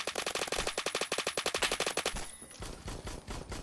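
An AK-12 fires a rapid, evenly spaced automatic burst in the shooter game Phantom Forces, followed by fainter distant gunfire as the burst ends.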